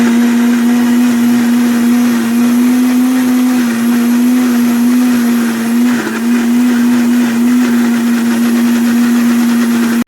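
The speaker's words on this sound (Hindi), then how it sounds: "पहले मैं इसको पीस लूँगी मिक्सी में" A loud, steady motor whine of a mixer grinder grinding food continuously, with a brief dip in pitch midway before it settles again.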